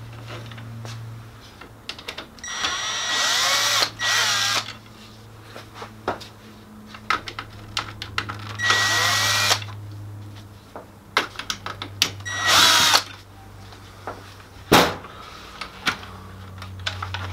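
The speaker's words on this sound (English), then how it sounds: "Remove the three locking screws and remove the waste toner collection unit." Locking screws are backed out of the waste toner collection unit on a Ricoh MPC copier, heard as several short bursts of a small power driver with clicks and taps from handling the plastic unit in between.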